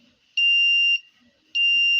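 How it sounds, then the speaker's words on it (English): An electronic buzzer driven by a timer circuit beeps intermittently, two loud, steady high-pitched tones of about half a second each separated by near silence, alone and close. "There is a buzzer. It buzzes, it makes a sound, beeping sound like this."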